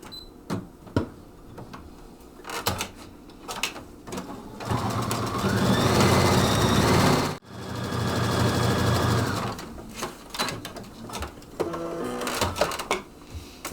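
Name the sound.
Brother Stellaire sewing machine stitching around a Christmas stocking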